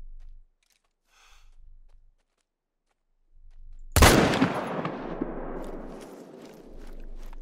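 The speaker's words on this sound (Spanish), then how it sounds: "Tiene una respuesta brutal este rifle, ¿eh? El M1." A loud M1 rifle shot in theHunter: Call of the Wild, at night, bursts after quiet low rumbles and faint movement, then rolls into a long echoing tail with scattered crackles.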